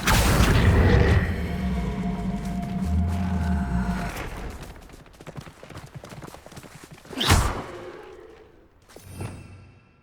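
A Bombarda blasting spell explodes in the video game Hogwarts Legacy, a deep booming rumble fading over a few seconds, followed by whooshing bursts from the game.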